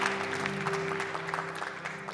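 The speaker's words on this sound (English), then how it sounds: "let's hear a round of applause for Brother Todd once more" A church congregation applauds during a Sunday worship service, moderate clapping over a steady organ or keyboard tone, sounding somewhat distant.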